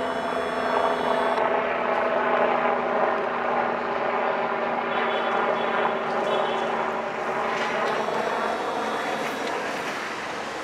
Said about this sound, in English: Helicopter going over.